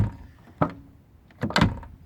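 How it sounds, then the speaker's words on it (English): A Nissan 350Z door with chassis bracing swings open and shuts, giving two soft thuds about a second apart, close by and quiet with no talking. "Opens and closes the door, no problem."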